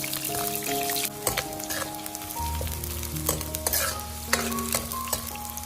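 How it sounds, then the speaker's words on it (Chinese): Scallion and ginger slices stir-fry in a small amount of cooking oil in a pan, giving a steady close sizzle with scraping stirs and a few sharper clacks of the utensil against the pan. "先把葱姜片倒下去炒香，把里面的葱姜汁炒出来"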